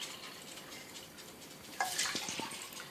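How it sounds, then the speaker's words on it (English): Tap water runs into two containers, a soft steady hiss that brightens into louder splashing and trickling as the flow hits, with no voices. "we're going to take tap water and we're going to fill these two things here real quick"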